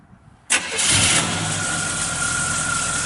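A 1972 Chevrolet C10 pickup engine cranks and catches after a brief quiet moment, then settles into a steady, loud idle that continues to the end with no talking.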